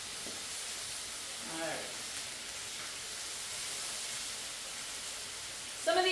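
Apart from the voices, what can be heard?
chicken sizzling on a Blackstone griddle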